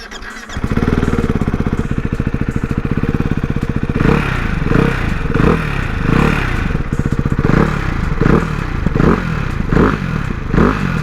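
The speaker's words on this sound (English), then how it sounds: "Show you guys what the exhaust sounds like." A 2024 Ducati Hypermotard 698 RVE motorcycle engine cranks and fires up, then idles roughly before being revved in several rising bursts through the exhaust, loud and close.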